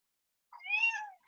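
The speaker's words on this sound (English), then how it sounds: "That's my cat." A domestic cat gives a single short meow, close and clear after a moment of silence, followed by the start of a second cry.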